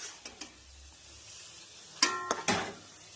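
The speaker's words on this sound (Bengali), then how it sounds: "অল্প আছে আমি নাড়াচাড়া করে শুকিয়ে নেব" Taro being stirred in a pan to dry off its water, with a soft sizzle under a few light spoon taps early on, then a cluster of sharper scraping clatters against the pan near the end, close by, no voices.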